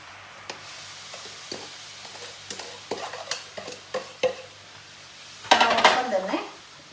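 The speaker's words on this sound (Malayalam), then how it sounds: "തിളച്ച് വരുമ്പോൾ നമുക്ക് ആ എടുത്ത് വെച്ചിരിക്കുന്ന റവ ഇട്ട് കൊടുക്കാം" Semolina is tipped into boiling sugar syrup for rava laddu and stirred in a pan, giving scattered scraping taps and a louder bubbling, sizzling burst toward the end.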